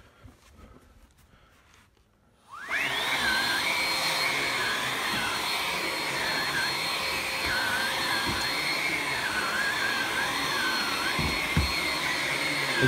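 A Hart HPVSV50 cordless 20V stick vacuum with a 4Ah battery switches on after a quiet start, then runs with a steady loud whine whose pitch wavers slightly as it is moved around.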